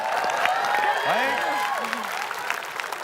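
Studio audience applauding on an Indonesian television quiz show, a dense, steady clatter of many hands filling the clip at a moderate level, with voices and cheering mixed faintly underneath.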